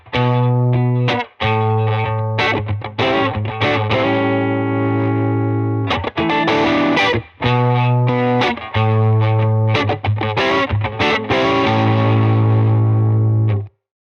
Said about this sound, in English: This is the Germanium boost. I'll just give you a quick sample of what that sounds like.